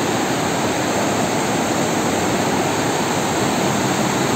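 Cold, milky-white river water rushing down from the mountains, heard from a bridge near the Chamunda Devi temple in Kangra; a loud, steady, broadband roar of whitewater runs unbroken throughout.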